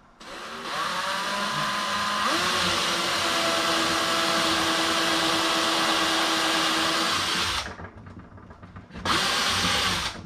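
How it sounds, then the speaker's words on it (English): A power drill whines loudly and steadily as it bores in, with a sudden jump in pitch partway through, then stops briefly and gives one more short burst. "Okay, now I'm going to drill this one."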